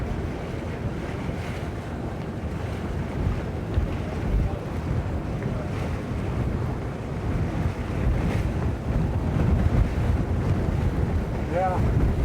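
Strong wind of about 22 knots roars steadily across a boat at sea, with buffeting wind noise on the microphone and the wash of waves underneath, continuous and fairly loud.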